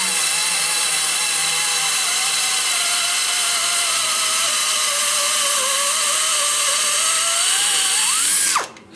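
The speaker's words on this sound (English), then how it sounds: "I'm letting the belly of the grinder do the grinding" High-pitched steady whine of a die grinder porting the bowls of a Holder Boulder 305 HO V6 cylinder head. Pitch dips and wavers under load, then rises and winds down sharply at the end. Loud, close, no talking.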